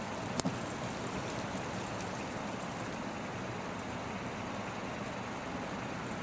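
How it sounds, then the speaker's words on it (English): Small hail falls outdoors at Shooters Hill in May, making a steady, even hiss of tiny pellets striking surfaces all around, with one brief sharp tap near the start and no talking. "we got little small hail"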